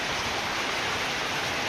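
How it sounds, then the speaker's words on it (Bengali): Steady rain pours down continuously since morning, a dense even hiss filling the whole stretch with no pauses and no voices. "এই বৃষ্টি যে শুরু হয়েছে সকালের থেকে"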